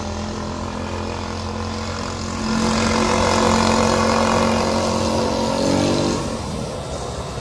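A 150cc adult go-kart engine drones steadily nearby while driven, rising into a louder revving stretch in the middle before settling back to a constant hum.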